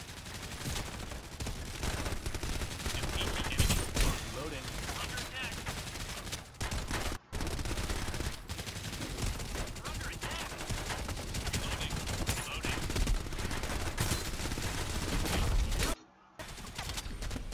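Dense gunfire and shotgun blasts in Farlight 84 gameplay, rapid overlapping shots filling the clip with brief dropouts, while a streamer talks intermittently.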